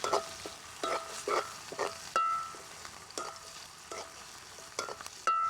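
Rambai leaves frying with garlic, onion and chili in a pan, a steady soft sizzle broken by repeated clattering strokes of a stirring spoon, close and fairly quiet.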